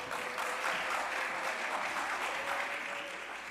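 Indoor audience at a community centre opening applauds steadily, a dense, even wash of clapping that holds for several seconds before tapering slightly.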